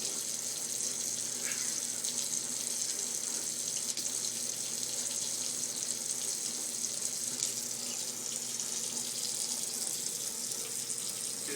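Water runs steadily from a tap into a sink, a constant close splashing stream with no talking.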